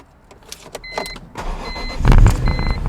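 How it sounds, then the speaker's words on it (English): BMW E46 M3 with SMG gearbox being started with the door open: clicks and electrical chimes, then a starter crank that catches into a loud, rising engine roar. "We're gonna see if we can start the car."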